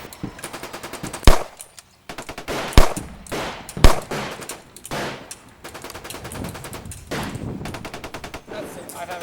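Artillery and gunfire as the Free State Army bombards the Four Courts building: dense, rapid machine-gun bursts run throughout, broken by several louder, sharp blasts that stand out above the rattle.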